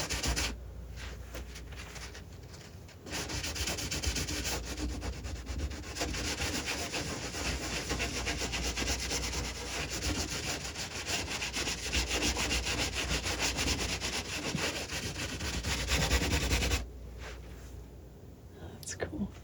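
Palette knife spreading paint across canvas in a quick glazing technique: continuous close, soft scraping and rubbing strokes that carry on for most of the span, bracketed by quieter moments.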